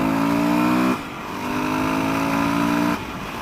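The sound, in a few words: dual-sport motorcycle accelerating on street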